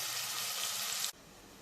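Onions frying with garam masala, ginger and garlic give a steady close sizzle that cuts off abruptly about a second in, leaving quiet room noise.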